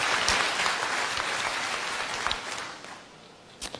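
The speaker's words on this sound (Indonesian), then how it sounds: "Mau kasih tepuk tangan sekali lagi buat Allah kita." A church congregation at an Easter service applauds in a dense, steady burst of many hands that gradually thins and fades toward the end, with a few isolated claps lingering.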